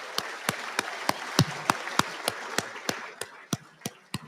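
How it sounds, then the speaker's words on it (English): Applause at an awards dinner for award recipients and their families, heard as a series of sharp, evenly spaced claps, mostly from one nearby clapper, over a softer wash of crowd clapping. "one last round of applause for all our award recipients and their families."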